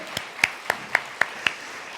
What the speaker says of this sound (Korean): 다시 한번 하나님께 영광의 박수 드립시다